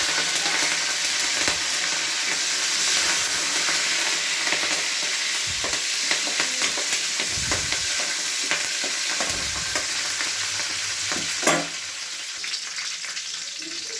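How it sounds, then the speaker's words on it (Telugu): Garlic and curry leaves fry in hot oil in a pan, a loud continuous sizzle with spoon scrapes and stirring knocks close by, and no talking. "పోయిన తర్వాత ఇందులోనే కరివేపాకు వేసుకోవాలి ఫ్రెండ్స్."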